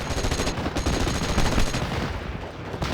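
Suppressing gunfire in the WWII strategy game Steel Division Normandy, a dense, continuous roar of overlapping rifle and machine-gun bursts, loud and unbroken, with no voices.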